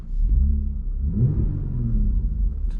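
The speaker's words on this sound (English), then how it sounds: "Let's give it a quick little rev." A Jeep Grand Cherokee 3.6L V6 with a new aftermarket exhaust revs once from inside the cabin, a deep close rumble swelling and easing back toward idle.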